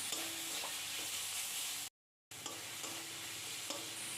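A crab curry masala with chili powder and salt is stirred in a hot pan, the steady sizzle of frying broken by soft scraping strokes, with a brief silent gap in the middle.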